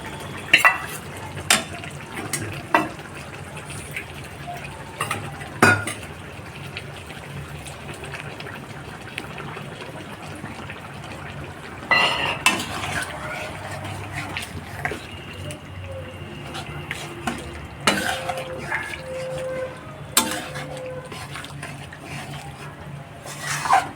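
Sesame paste is stirred into a pointed gourd curry in a pan, with scraping, wet stirring strokes and soft sizzling going on throughout, broken by occasional clinks of the spoon against the pan.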